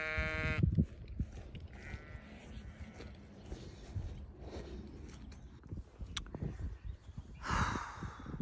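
Sheep, pregnant ewes on a farm under attack by a dog, bleat several times, some close and loud, amid rustling and movement, with a sharp burst of bleating near the end.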